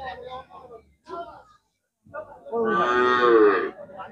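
At a cattle market in a border area of Sylhet, a bull calf gives one long, loud, nearby moo after bits of people talking nearby.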